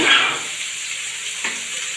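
Pieces of maan kachu (giant taro) and rohu fish fry in a pan in a village kitchen, giving a steady soft sizzle with faint stirring. The sound is alone and moderately close.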